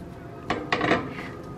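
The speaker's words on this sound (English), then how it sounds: "We're gonna give it a little bit of a stir here" A spoon stirring thick potato soup in a pot, giving two or three scraping, rubbing strokes against the metal over about a second, close and fairly quiet.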